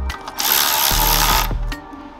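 Ratchet driving bolts into M8 rivet nuts on the reinforced boot floor of an E46 BMW M3: a dense, close mechanical burst of about one second, then fading clicks, with no one talking.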